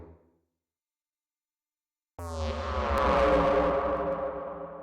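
A drum and bass synth patch with a long release and randomly modulated echo enters abruptly after a quiet gap, swelling into a dense, sustained smear of repeating tones that holds loud to the end.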